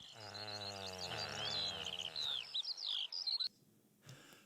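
Calls of the great bustard, a 20-kilogram crane relative and one of the heaviest flying birds: bright high chirps and twittering trills over a steady low tonal drone, thinning out near the end.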